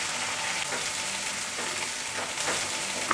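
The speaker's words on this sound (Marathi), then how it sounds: "आता हे वाटण आहे ना ते परतून घेऊया थोडं" Ground masala paste for chana masala is sautéed in a pan, producing a continuous soft sizzle with faint stirring swishes and a sudden louder knock right at the end.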